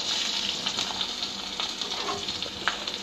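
Crushed unpeeled garlic fries in a pan for raw ripe mango pickle, giving a loud, dense sizzle close up with a light crackle and a few stirring scrapes, with no talk.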